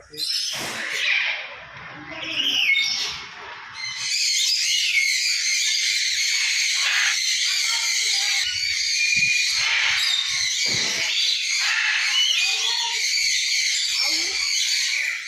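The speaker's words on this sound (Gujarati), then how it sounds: "અહીંયા પક્ષી છે બધા પોપટ બધા અલગ અલગ પ્રકારના પોપટ" Shrill, harsh parrot screeches and squawks ring out continuously, several parrots of different kinds calling over one another at close range with piercing high cries.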